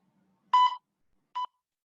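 Workout interval timer beeping during a home boxing, cardio and balance class: two clean electronic beeps, the first longer and the second short, about a second apart, with near silence otherwise.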